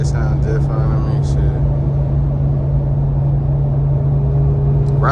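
Steady, loud droning road rumble inside a Ram TRX truck running on Mud Grappler tires, a constant low hum and tire roar with a faint voice briefly over it.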